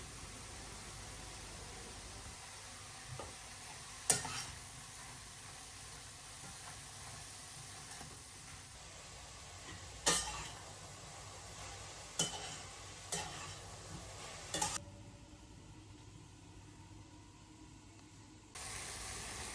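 Cabbage frying in a pan with turmeric, a quiet steady sizzle with occasional clinks and scrapes of a utensil stirring, heard close in a home kitchen.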